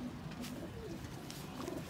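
A pigeon coos softly in low, rolling murmurs, close by and fairly quiet, with no talking.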